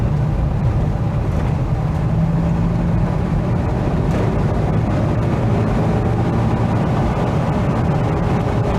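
A 1975 Mitsubishi Colt 1400 Delica minibus engine drones steadily while driving at about 50, a constant low rumble straining near the top of its revs, with road and cabin noise throughout.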